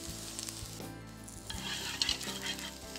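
Chopped garlic sizzling in hot oil, a steady close frying hiss with occasional stirring clinks and scrapes of a utensil against the pan.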